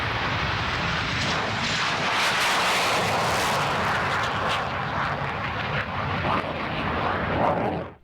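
Grumman F9F Panther navy jet in flight, a loud, continuous roaring jet rush with crackling bursts, sustained for several seconds and then cutting off abruptly at the end.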